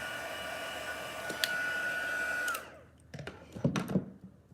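A heat tool blows steadily while embossing powder melts on a stamped card, a loud broadband whoosh that holds for about two and a half seconds, then winds down and cuts off, followed by a few soft handling knocks.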